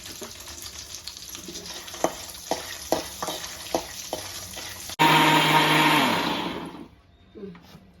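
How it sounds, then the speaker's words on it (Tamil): Electric mixer grinder whirring loudly as it blends fried coconut and small shallots into a smooth masala, starting abruptly after a few light kitchen clicks, holding steady and then winding down. "மசாலா நல்லா தேங்காயும் சின்ன வெங்காயம் நல்லா நைஸாக அரைச்சாச்சு"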